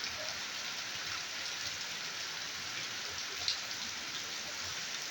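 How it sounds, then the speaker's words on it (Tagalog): Heavy rain pours down in a dense, steady hiss with no pauses, filling the whole scene. "Lakas ng ulan."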